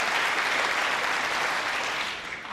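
Applause from a snooker audience at the Welsh Open semi-final, O'Sullivan against Perry: a steady wash of many hands clapping at moderate distance, holding evenly before tapering off at the close.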